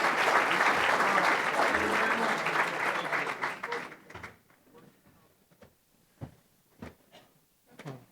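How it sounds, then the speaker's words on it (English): Dense applause from a crowd for several seconds, then fading out into a few scattered claps and thuds. "Let's give them a round of applause."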